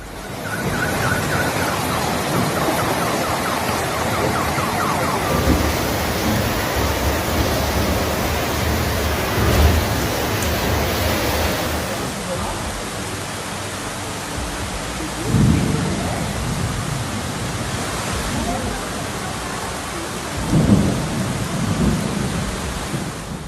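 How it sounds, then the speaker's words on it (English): A heavy rainstorm pours steadily over Montevideo with dense, constant hiss, and deep thunder rumbles roll in several times. Traffic sounds blend into the downpour and no voices are heard. "insistent rainfall causing chaos and flooding in many areas of the city"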